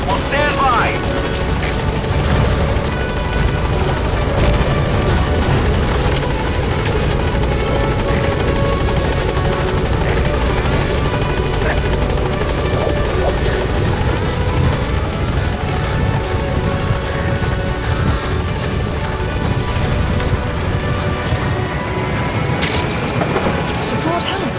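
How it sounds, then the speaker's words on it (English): A support helicopter arrives at a landing zone in Metal Gear Solid V, its rotor roar loud, close and continuous throughout, with a thick rumble and scattered cracks beneath. "Support helicopter has arrived."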